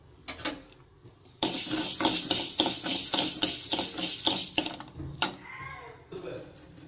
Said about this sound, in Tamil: இதை நம்ம நல்லா வறுத்து எடுத்துக்கலாம்.